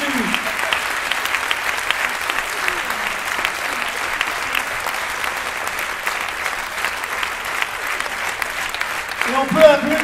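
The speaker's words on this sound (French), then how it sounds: "On a une standing ovation là-dessus." A theatre audience gives a standing ovation: dense, sustained clapping from a large crowd fills the whole stretch, steady and loud, with a few voices faintly mixed in.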